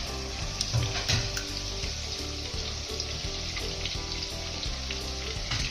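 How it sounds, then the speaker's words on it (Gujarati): Ginger chili paste sizzles steadily in a hot pan for pav bhaji, a continuous close frying hiss with faint scraping and clinks now and then, no voices. "આદુ મરચાંની પેસ્ટ નાખીશું."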